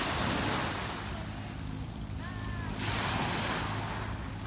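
Ocean waves wash steadily onto the beach at Laemtong, a broad continuous roar of surf mixed with wind buffeting the microphone, with a faint bird-like chirp partway through.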